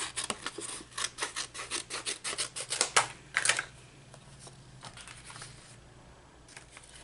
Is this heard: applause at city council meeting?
no